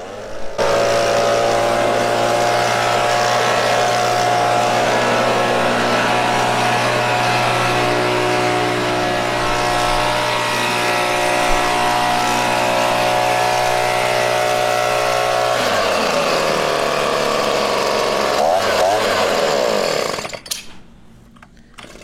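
A gas-powered leaf blower runs loud and steady, blowing dirt along the ground. After a long constant drone the engine drops in pitch, winds down and cuts off near the end.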